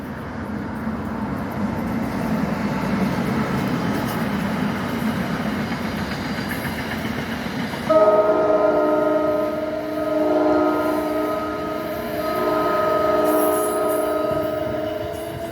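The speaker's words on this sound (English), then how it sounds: "You'll catch some Amtrak's coming across here too. New Jersey Transit coming down." An Amtrak or New Jersey Transit train passes on the Northeast Corridor, a steady rumble of wheels on rail joined midway by a loud, sustained multi-tone horn that sounds in bursts near the listener, with no talking.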